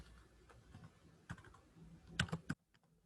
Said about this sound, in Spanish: Vamos a teclear igual